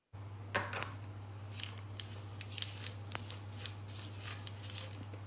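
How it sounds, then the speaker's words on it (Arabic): Mustard and cumin seeds hit hot oil for an Indian-style coconut shrimp curry, giving sporadic sharp pops and crackles over a steady low hum. "أول ما يسخن معاكم الزيت بهالشكل تضيفون حبوب الخردل، تبتدي تطلع صوت معاكم"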